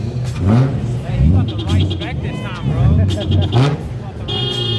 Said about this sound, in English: Oh no, these are revving it.